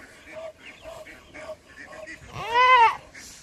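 A goat bleats near the end of the clip, one loud wavering cry, before it is slaughtered for shish kebab. Quieter voices or animal calls repeat in a rhythm beforehand.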